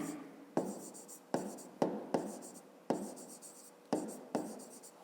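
Pen or pencil scratching out a fifth-grade math exercise by hand on paper, in repeated short strokes with sharp onsets, close and fairly quiet, no talking.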